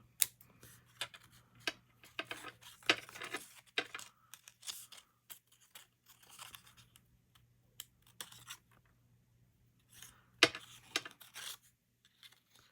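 Scissors snipping paper antlers for a Christmas shadowbox, a string of small sharp clicks and cuts, close and quiet, scattered irregularly with a brief pause near the middle and a louder snip toward the end.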